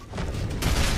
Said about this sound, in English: Keep shooting Baird